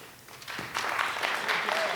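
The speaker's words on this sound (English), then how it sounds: "Give him a round of applause, please." Audience applause for a community jazz band's trumpet player at a December concert, a steady broadband clatter of clapping that swells after a moment and holds at a moderate level.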